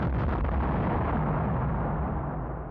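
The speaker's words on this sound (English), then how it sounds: "Sounded like a bomb." A bomb explodes aboard a space station, a loud sustained blast with a deep rumbling roar that fills the whole clip and slowly fades toward the end, heard alone without voices.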